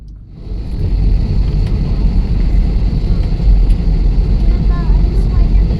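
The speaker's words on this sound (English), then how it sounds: "We ended up landing at this airport, which is in Zacatecas." Airplane landing at the airport in Zacatecas, Mexico, heard from inside as a loud, steady low engine and rumble roar that builds in the first half-second and holds throughout.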